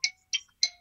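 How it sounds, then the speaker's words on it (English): A mobile phone rings with three short, bright chiming tones evenly spaced, each fading quickly into silence, fairly quiet and with no one talking. "Sorry, that's my phone going."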